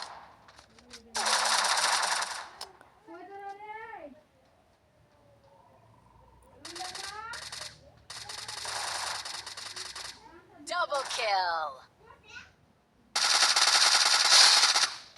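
Rapid automatic gunfire bursts from a mobile shooting video game, several loud sustained volleys separated by pauses, alternating with in-game sound effects and someone talking excitedly.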